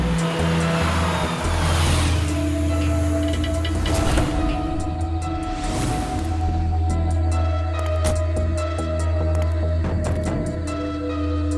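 A car drives with a steady, loud engine drone and road rumble throughout, with a few brief swells and rattles, on a night road; no one speaks.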